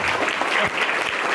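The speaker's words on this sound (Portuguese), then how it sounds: "Faltou as palmas, né, para a diretora." A small school audience claps briefly for the director, a short burst of applause with a few voices mixed in.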